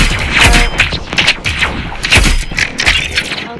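Rapid gunfire in the Roblox Rivals video game, a close, loud burst of repeated cracking shots in uneven clusters with no pauses longer than a beat.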